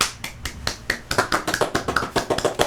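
Quick, uneven bursts of clapping that gather into a steady run of claps, loud and close, with no voices.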